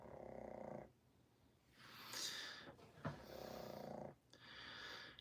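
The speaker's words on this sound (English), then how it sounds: "Starbase, is that a pug snore?" A pug snores in slow cycles, each long rasping inhale followed by a softer wheezy exhale, three to four breaths, close and quiet with no voices.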